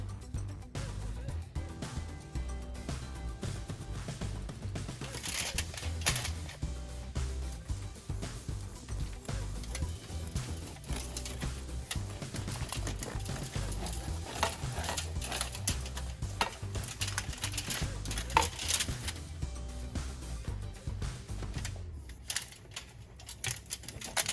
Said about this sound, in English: now I'm gonna cut my bread